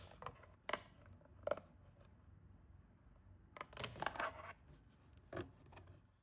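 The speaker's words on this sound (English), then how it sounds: "Start by removing the mirror using a 90-degree pick and carefully prying the tabs away from" A 90-degree pick prying plastic tabs away from a Mustang side mirror mechanism, several sharp close clicks and snaps with faint scraping and plastic rattles in between, quiet otherwise, no speech.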